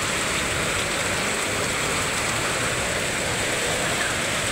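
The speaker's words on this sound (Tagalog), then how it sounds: "Lakas ang ulan guys." Heavy rain pours down steadily during a storm, a dense, loud, unbroken hiss of drops hammering surfaces nearby with no pauses.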